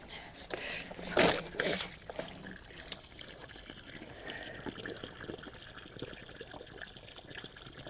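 Water sloshes and pours into a planting in a tropical garden, a louder gush early on and then a steady low trickle, with people talking nearby.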